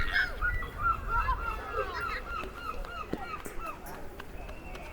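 Seagulls call repeatedly around a new water feature on Armada Way in Plymouth, UK, with several short squawks over outdoor ambience and a low background rumble.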